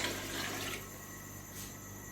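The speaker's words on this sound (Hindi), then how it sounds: "अब मैं इसमें यखनी डालूंगी।" Yakhni stock, the broth for a beef Afghani pulao, pours into a cooking pot with a faint, soft liquid rush that eases off partway through.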